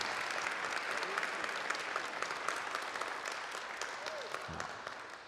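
Church congregation applauding steadily for several seconds, a dense wash of many hands clapping at moderate distance, slowly fading toward the end.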